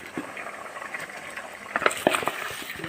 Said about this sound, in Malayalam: നമ്മുടെ അരപ്പ് ഇവിടെ തിളച്ച് വന്നിട്ടുണ്ട്